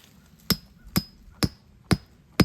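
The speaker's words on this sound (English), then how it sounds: "Hammer that down in there as deep as you can get it to go." A hammer drives a metal trap stake into dirt for a coyote, bobcat and fox dirt hole set. Five sharp, evenly spaced blows land about half a second apart, close and distinct.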